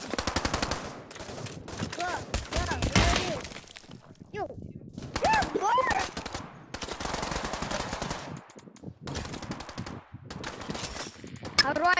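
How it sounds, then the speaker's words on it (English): Sustained LMG machine gun fire in the VR shooter Pavlov Shack, long rattling automatic bursts with brief pauses over about twelve seconds, overlapped by players' voices. "Everyone on the red team, just take an LMG and then fire it as hard as you can at the other team."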